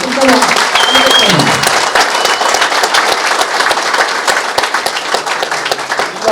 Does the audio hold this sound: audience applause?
yes